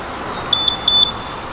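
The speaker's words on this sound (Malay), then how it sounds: "NVX yang untuk ABS model, yang ada ABS model dia datang dengan alarm sistem." A Yamaha NVX 155 ABS motorcycle alarm system gives four short, high electronic beeps in quick pairs, close and clear over a faint low background hum.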